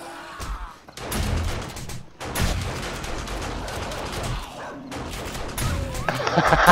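Gunfire in 7 Days to Die as guns fire on a zombie horde during horde night, with dense overlapping shots and heavy thumps running throughout and getting louder near the end.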